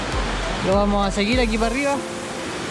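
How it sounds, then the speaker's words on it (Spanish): A small stream flowing off the Putamolal river rushes steadily as broadband water noise throughout, heard close by beneath someone speaking Spanish. "un chorrillo, un estero que sale del río Putamolal"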